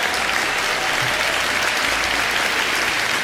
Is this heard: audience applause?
yes